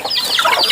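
Hens being brought their feed give a brief, close burst of clucking and chattering calls.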